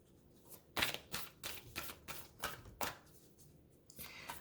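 A deck of cards being shuffled by hand, heard close and fairly quiet as a run of quick riffling bursts with short gaps between them.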